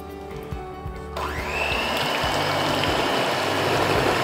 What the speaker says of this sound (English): Now we are going to start whisking the egg whites.